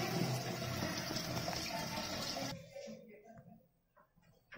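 Water rushes through the ball cock into a Geberit concealed toilet cistern, a loud, steady gushing fill that cuts off abruptly partway through, leaving faint trickles and a nearby voice.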